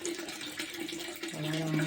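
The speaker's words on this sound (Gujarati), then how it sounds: "પાણી એટલું ધીમું ધીમું પાણી આવે ટોકામાં" Water trickles slowly into a rooftop storage tank, a soft continuous splashing flow, while someone talks over it.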